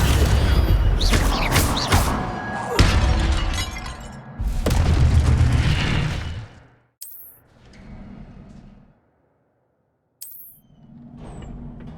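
Incendio fire spell cast in the Hogwarts Legacy video game: loud bursting, shattering blasts with crackling debris in the first half, then quieter flaring whooshes separated by short gaps.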